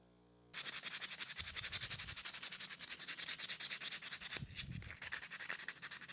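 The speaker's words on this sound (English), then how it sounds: "I'll be using the same drum sander I showed you before to kind of just smoothly sand it" A drum sander smoothing a wooden flower box, a close, steady abrasive rasp with a fast pulsing rhythm that starts abruptly and runs continuously to the end, no one talking.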